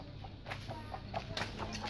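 Bangkok chickens cluck in short, scattered bursts nearby, with a faint background hum.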